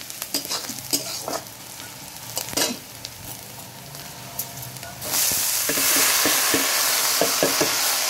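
Onion frying with bottle gourd peel in a pan, starting with scattered stirring clicks and a light sizzle, then turning into a loud, steady, close hiss partway through, with no voices.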